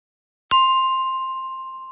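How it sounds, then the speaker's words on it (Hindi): A small brass bell is struck once, giving a bright, clear ring that sustains and slowly fades against silence. "जैसे ही घंटी की आवाज आई"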